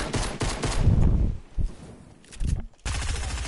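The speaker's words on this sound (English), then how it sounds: "I'm using a pistol right now." Pistol shots in a video game crack out in a quick, busy burst, loud and close, with a short lull near the end before the firing picks up again.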